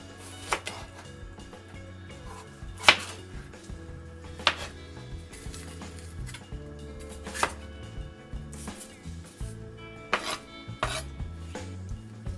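A knife chops a red bell pepper on a cutting board in irregular, quiet taps, punctuated by a few sharper knocks.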